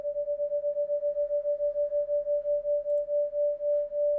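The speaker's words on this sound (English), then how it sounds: "Playing adjacent sine waves so that they will create a wobbling effect." A steady pure tone from two adjacent sine waves pulses with a wobbling beat that gradually slows, alone and moderately loud throughout.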